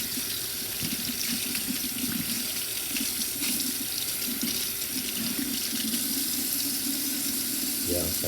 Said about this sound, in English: Rinse this off really good. Clean off all the little bits of residual metal or whatever grime that is we just took off.